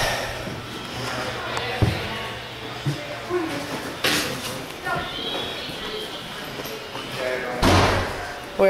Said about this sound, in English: who just pulls that door then?